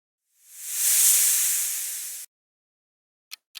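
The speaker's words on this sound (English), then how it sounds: "Yes, it's snake." A snake hisses in one long, steady breathy rush lasting nearly two seconds, close and fairly loud, followed after a pause by two short sharp hisses.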